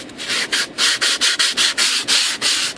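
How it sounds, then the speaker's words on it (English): Rhythmic scratchy rubbing of a small sanding block on a model airplane's wood, about a dozen quick back-and-forth strokes, close and steady with no voices. "Got these little sanding blocks."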